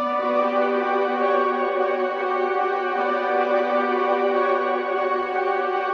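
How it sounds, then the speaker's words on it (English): Dark trap-style synth melody drenched in a huge Valhalla reverb with a seven-second decay, sustained washy tones blurring into a constant shimmering pad, moderately quiet and alone without any voices. "a 7-second decay, which is a super big reverb"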